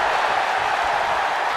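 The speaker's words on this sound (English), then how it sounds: "Listen to this crowd driving these competitors to leave everything out in the ring." Arena crowd noise from a WWE 2K24 wrestling match in Universe Mode, a steady roaring wash of cheering that fills the whole moment without letup, loud and continuous with no distinct claps or voices rising above it.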